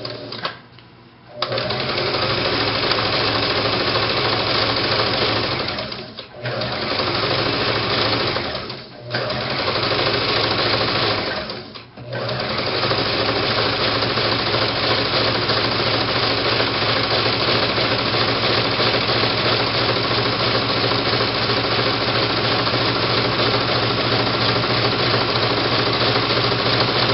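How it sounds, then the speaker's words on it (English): Sewing machine stitching brown thread across rectangular fabric pieces for ruffle pants, running in a loud, steady, continuous whir with three short stops before carrying on to the end. "Got my brown thread in here. And I'm just going to sew across."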